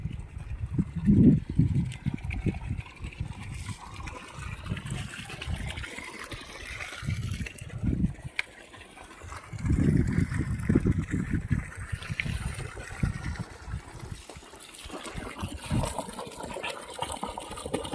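A 3hp solar-powered pump motor runs at partial speed, lifting water from 400 feet through a 1.5-inch delivery pipe, with a low churning, gushing rumble that swells and fades in uneven surges.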